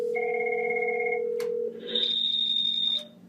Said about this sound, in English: You can hear his other phone in the room.